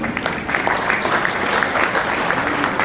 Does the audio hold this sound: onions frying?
no